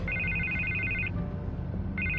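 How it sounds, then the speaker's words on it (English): A telephone rings in a Batman video game on PS4, with two bursts of bright electronic trilling separated by a short gap, loud and alone over a low, rumbling game background. "I can't get the phone to stop ringing."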